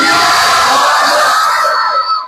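A large congregation roars back a loud religious slogan in unison at a sermon gathering, a sustained massed shout that holds for about two seconds before tapering off.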